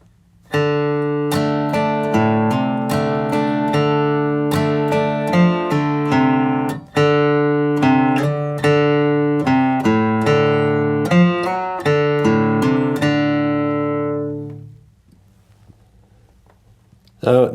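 An acoustic guitar plays a country blues strumming line, measures 5 to 8, in crisp rhythmic strums and single-note fills that ring out clearly alone before fading to silence.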